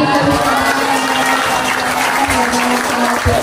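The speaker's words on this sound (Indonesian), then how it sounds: "Tepuk tangan." An audience claps at a live Ramadan event held by a Muhammadiyah hospital in Temanggung. The applause is loud and sustained, with a steady hum beneath it and some faint voice-like sounds in the mix.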